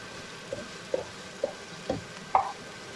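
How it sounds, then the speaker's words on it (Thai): Pork being stir-fried in a pan with garlic, giving five short scraping stirs spaced about half a second apart over a quiet background hiss, the last one loudest. "แม่อ้อยก็จะนำหมูลงไปผัดเลยค่ะ"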